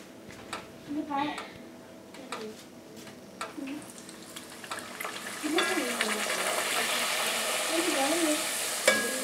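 Food frying in hot oil sizzles and crackles steadily, growing louder over time, while a voice talks over it.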